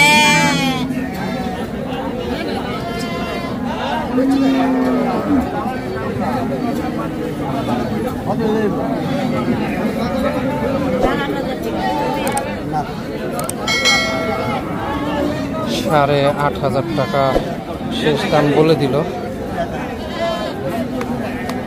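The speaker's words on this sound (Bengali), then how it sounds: "অনেক ছাগল আছে।" Goats bleating at a busy village livestock market, several wavering cries near and far over a constant crowd murmur, with people talking and haggling throughout.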